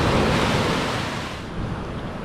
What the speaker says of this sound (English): It's a lot windier than it's supposed to be.